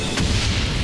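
A single heavy boom from a World War I battlefield in the Valiant Hearts video game, a short deep thud with a low rumble, moderately loud, with no talking.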